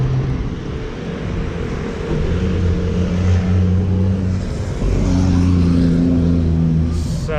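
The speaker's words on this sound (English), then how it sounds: "just letting all these noisy cars pass by" Noisy cars pass by continuously on a street in Guadalajara, a loud, close rumble of engines and tires with swelling passes and no speech.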